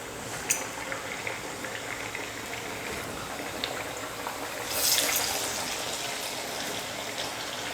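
Thavala vadai frying in hot oil, a soft continuous sizzle and bubbling with a brief louder hiss as batter drops in, no talking.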